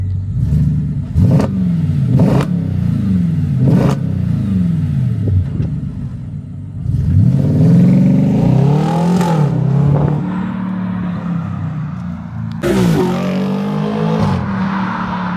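Loud repeated revving bursts from an Audi RS5 engine with a muffler delete, each blip sweeping up and falling away, followed by a longer deep roar and more sharp throttle stabs near the end.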